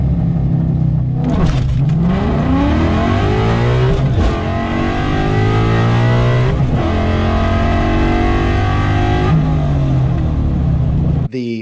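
Ford Fox body drag car engine revving hard, rising and falling through repeated gear changes in a continuous loud roar, close and dominant throughout, then cutting off abruptly at the end.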